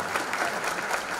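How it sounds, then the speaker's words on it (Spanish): Audience at a dance anniversary show applauds steadily, a dense, even wash of many hands clapping close by throughout the short stretch. "Un muy, muy fuerte aplauso."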